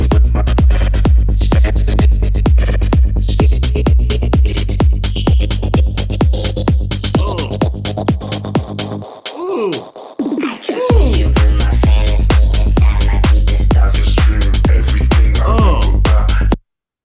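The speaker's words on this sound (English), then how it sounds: "ran the original vocal through a plugin called Tantra, which is a plugin that I think everyone should use. It kind of adds really cool stutters" A remixed vocal run through the Tantra plugin, chopped into rapid rhythmic stutters over a loud, steady electronic beat with deep kick, with a brief breakdown near the middle before the full groove returns.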